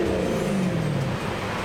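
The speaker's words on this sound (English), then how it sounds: "That is a 540i BMW." A BMW 540i engine rumbles steadily up close, its deep tone sliding slightly downward as it runs.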